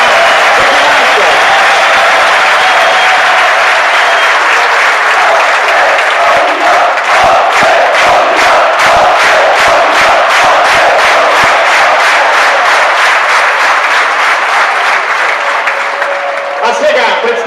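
A crowd at a veterans' handball match between Pelister and Macedonia breaks into loud, sustained applause for the Macedonian team, dense clapping swelling then fading, with an announcer's voice over the start.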